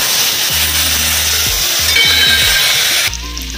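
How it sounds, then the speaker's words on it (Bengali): Boiled potatoes frying in hot oil with whole cumin and bay leaf, a steady close sizzle broken by a few spatula scrapes and clinks against the pan, with no voices. "এখন ভালো করে ভেজে দেবো আলুগুলি।"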